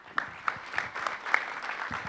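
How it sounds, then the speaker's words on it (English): A brief patter of scattered clapping from a small audience, fairly faint and uneven. "Round of applause"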